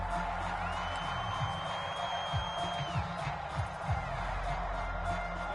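Steady crowd roar from a packed home stadium in a Madden NFL football video game, a continuous loud wash of noise with a few brief whoops rising above it.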